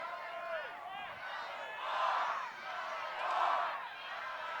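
Crowd noise at a San Diego Growlers pro ultimate frisbee game against the San Francisco Flamethrowers, a steady stadium murmur that swells into two cheering surges, with commentary voices over it.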